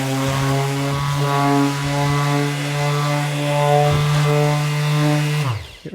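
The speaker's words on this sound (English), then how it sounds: "And then you can just give them a light sanding." A steady, loud Bosch power sander whines continuously against wooden edges, with a constant motor hum that winds down abruptly at the end.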